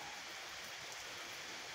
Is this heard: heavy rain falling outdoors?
yes